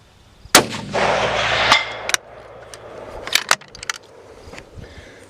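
A Ruger Precision rifle fires during long range shooting, giving a sharp, loud report followed by a rolling echo. Later come a second crack and scattered metallic clinks and handling noises.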